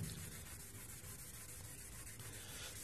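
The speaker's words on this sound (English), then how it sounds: "We'll go ahead and hit it with the Scotch-Brite pad" A Scotch-Brite pad scrubs light surface rust off a cast table saw top, making a continuous close, gritty rubbing that stays even and unbroken throughout.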